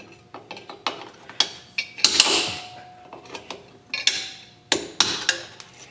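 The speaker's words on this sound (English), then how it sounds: "We'll go ahead and remove the bottom spring." Spring pulled off a rear drum brake on a 2001 Mazda Protege, heard as a series of sharp metallic clicks and snaps with a couple of brief scraping rattles, close by, with no talking.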